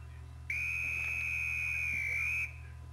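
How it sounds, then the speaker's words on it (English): A classroom whistle blown to signal a freeze, one steady shrill blast lasting about two seconds over a low constant hum. "the next time you hear this whistle"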